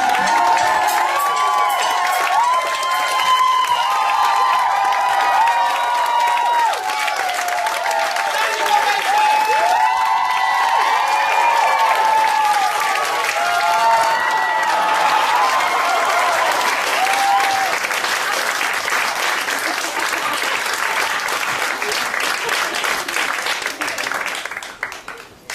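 A live audience bursts into dense, sustained applause with cheering and shrill children's shouts. It stays loud and steady for about twenty-five seconds, then tapers at the very end.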